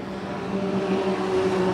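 Race cars circling in an enduro event about twenty laps in, a steady droning roar of engines with a constant pitch, continuous and fairly close, with no breaks over the short stretch.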